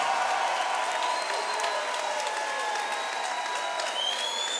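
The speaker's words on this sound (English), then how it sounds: "let's get a nice round of applause out here for both of these fighters" A crowd at a fight event at the Skylight Modern applauds both fighters after three rounds, a steady distant wash of clapping heard through the hall's sound system.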